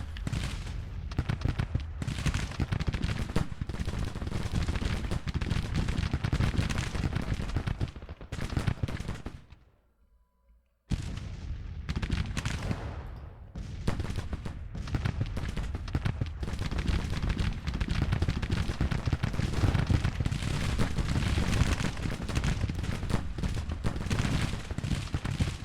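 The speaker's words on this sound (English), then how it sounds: "Rosser's guns firing from a distance in support." Artillery guns firing from a distance in Grand Tactician, a Civil War strategy game, heard as dense continuous booming and crackling gunfire with a brief silent break partway through.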